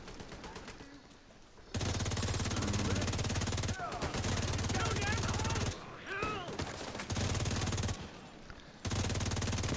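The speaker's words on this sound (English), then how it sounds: "Would you stop shooting at things?" Rapid automatic gunfire bursts from The Division 2 video game, loud and dense, broken by brief pauses with shorter gaps between volleys.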